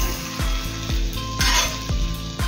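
Butter sizzles in a pan as slices of bread fry for French toast, a steady hiss punctuated by regular metallic taps and scrapes of a spatula against the pan, with a brief louder burst of sizzle midway.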